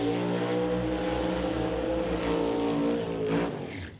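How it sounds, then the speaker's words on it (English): Two drag race cars in a Canada West doorslammer elimination round, one a Beretta, roar through side-by-side smoky burnouts, a dense continuous engine blare that stays loud throughout before easing slightly at the end. "Side-by-side smoky burnouts from your next pair."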